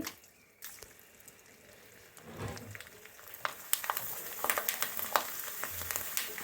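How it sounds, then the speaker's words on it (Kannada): Poha sandige, flattened-rice fritters, dropped into hot oil and frying, a soft hiss that swells into a dense crackling sizzle with sharp pops, close and steady without talk. "ಎಣ್ಣೆ ಕಾದಿದೆ ನಾನು ಸಂಡಿಗೆಗಳನ್ನು ಹಾಕ್ತಾ ಇದ್ದೀನಿ ನೋಡಿ"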